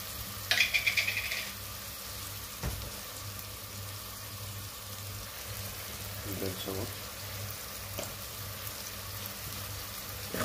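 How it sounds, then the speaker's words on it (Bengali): Beans, eggplant and potato with dried fish being sautéed and stirred in a pan, a low sizzle with occasional scraping and clinking of a spoon against the pan, and a brief burst of sound near the start. "ভালোভাবে কষিয়ে নিতে হবে।"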